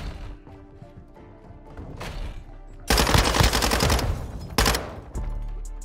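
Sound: gunfire in the video game Call of Duty MW2

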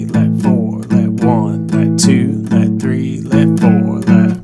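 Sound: acoustic guitar blues shuffle with held-over triplet notes

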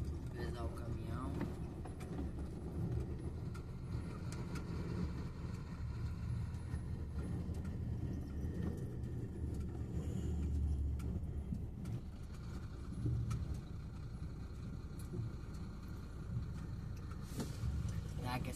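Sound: truck engine at a farm weighbridge

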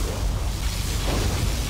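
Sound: particle cannon blast in video game Command & Conquer Generals

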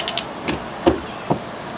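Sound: torque wrench tightening a bolt to 150 foot-pounds

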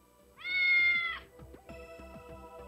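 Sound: cat meowing, stuck up a tree

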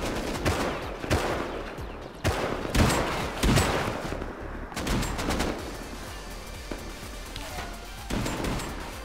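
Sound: gunfire from a video game

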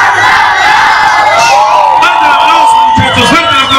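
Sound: party crowd shouting

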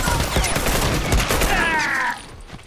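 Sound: bomb explosion in video game Factions

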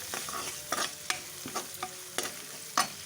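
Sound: stirring and frying turmeric in tempering oil

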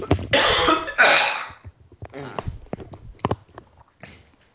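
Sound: voice imitating coughing up a hairball

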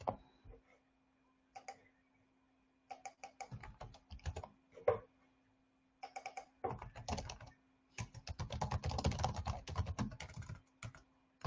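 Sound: typing on a computer keyboard

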